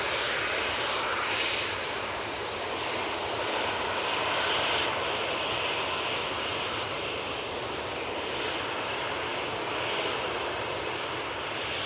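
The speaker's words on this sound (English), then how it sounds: "Ryanair 737-800 with the Sharklets." Jet engine roar from a Ryanair Boeing 737-800 with sharklet wingtips at Manchester Airport, a steady broad rumble and hiss sustained throughout at moderate distance, with no voices over it.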